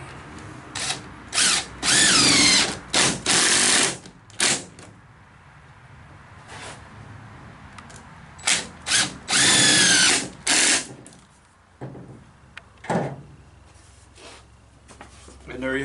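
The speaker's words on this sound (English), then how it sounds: "Put our 2 screws in there." A power drill drives two screws into wood for a glider bench, whining in several loud bursts that start and stop, close up, with talk between the bursts.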